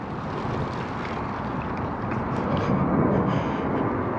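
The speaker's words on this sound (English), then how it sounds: "Another plane going behind me." An airplane passes overhead outdoors near the Jefferson Memorial in Washington, DC, a steady broad roar that swells slightly toward the end, with no talking.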